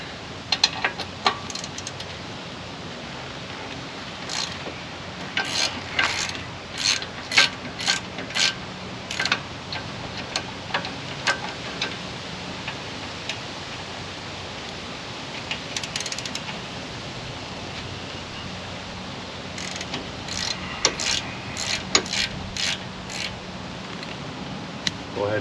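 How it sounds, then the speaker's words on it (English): Ratchet wrench with a 17mm socket loosening the front brake caliper bracket bolts on a 2017 Hyundai Santa Fe Sport, heard as bursts of quick metallic clicking in irregular runs over a quiet workshop background. "Now you'll need a 17mm socket so we can remove the caliper bracket."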